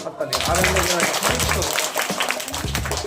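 Children clap at a primary school West Bengal Day event. Brisk, dense applause rises over a loud speaking voice that continues on top of it throughout.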